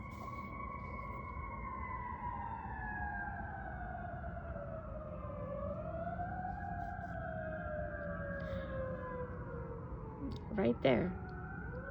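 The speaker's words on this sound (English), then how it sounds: "now we have the ambulance siren." An ambulance siren wails, rising and falling slowly, steady and moderately distant, with a brief spoken remark near the end.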